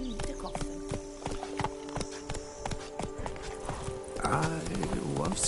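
A horse's hooves walking in The Witcher 3 game, producing a steady run of close clip-clops over a constant background hum, with someone speaking near the end.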